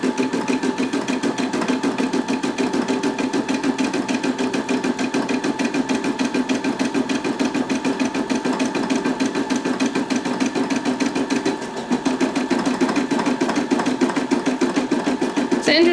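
A Brother Disney PE550D embroidery machine stitches onto a hoodie with a fast, even mechanical chatter and whir. The needle rhythm is steady and close, with only a brief dip near the end.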